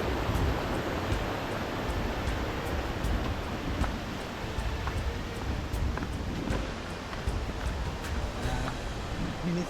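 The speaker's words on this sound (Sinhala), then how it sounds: "මේ තියෙන්නේ ඉතින් බමරකන්ද දියැල්ලෙන් වැටෙන වතුර තමයි" Water pours steadily from Bambarakanda waterfall in Sri Lanka, a dense, continuous roar of falling water that fills the scene evenly from start to finish with no voices.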